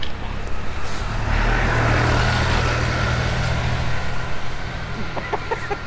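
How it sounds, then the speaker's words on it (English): A tractor rumbles along a rural farm road in Kent, a steady low engine drone passing nearby, with chickens clucking faintly in the background. "I was going to say a train, it's a tractor."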